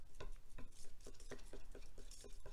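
A brush or stick stirs chalk paint in a small container for pot painting, giving soft rhythmic scraping strokes repeated about twice per second, close and quiet.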